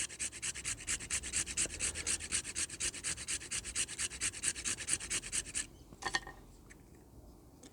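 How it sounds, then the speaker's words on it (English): Close, steady rubbing and scraping of a resinous fatwood stick to raise fine fluff, a rapid rhythmic rasp that runs continuously before stopping, followed by a couple of light knocks. "just rub it in there until you get the desired amount of fluff"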